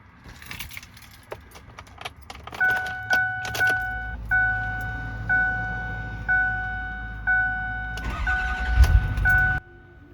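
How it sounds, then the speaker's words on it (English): Keys jingle, then a repeated chime sounds at a steady rhythm while a 2008 6.4L diesel engine cranks and catches, starting up loudly near the end. "The engine started up."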